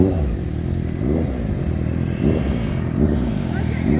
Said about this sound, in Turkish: O yüzden ikinci viteste yaparsanız motor daha rahat gider.